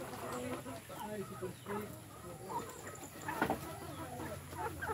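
Free-range chickens cluck and chatter steadily at close range in a hillside farmyard, with a rooster among them and people's voices running underneath.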